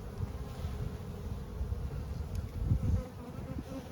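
Honey bees drone steadily at an open beehive during an inspection, a dense low buzz that is close and continuous with no talk.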